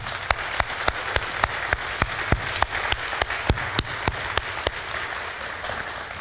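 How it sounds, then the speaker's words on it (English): Sparse applause at a school district retirement and recognition ceremony, a smallish group clapping with a few sharp, evenly spaced claps standing out near the microphone over a softer clatter that thins toward the end. "I'd like to have one more round of applause for everybody."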